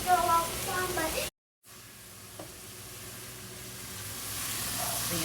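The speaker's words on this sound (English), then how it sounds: "Now I'm just sauteing them in a little bit of butter." Chicken of the woods mushrooms sauté in butter with seasoning salt, a steady close sizzle and hiss running through, briefly cut out, then resuming softly as a voice talks over it.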